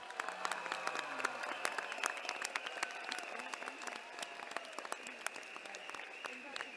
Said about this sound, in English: Give a round of applause for them,